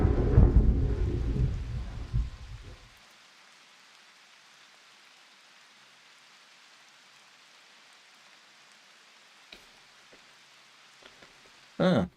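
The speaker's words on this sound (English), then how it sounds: "Calm after the storm." A thunderstorm with rain in the video game Go Wayback: a loud rumbling roll of thunder fades over about three seconds into a quiet steady rain hiss, with a brief crack later and a sharp burst at the end.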